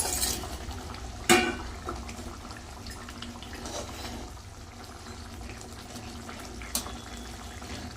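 Pieces of rohu and aila fish go into a pot of boiling curry broth, with two sharp splashing plops standing out over a continuous low bubbling and simmering of liquid, nearby and with no talking.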